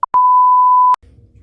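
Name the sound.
short beep sound effect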